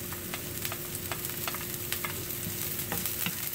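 Frozen peas and carrots sizzle in a pan of beef and cauliflower fried rice, a steady crackling hiss broken by quick scraping clicks of stirring.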